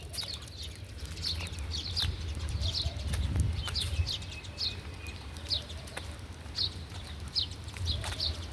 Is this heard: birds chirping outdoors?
yes